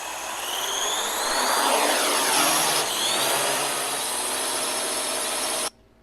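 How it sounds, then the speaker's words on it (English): A bat-shaped drone powers up in a Batman Arkham video game, a loud, sustained jet-like whoosh and whine with sweeping pitch that holds steady for several seconds and then cuts off abruptly. "Then he activates the drone."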